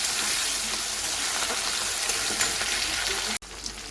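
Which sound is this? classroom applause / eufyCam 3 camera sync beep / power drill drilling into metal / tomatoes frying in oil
tomatoes frying in oil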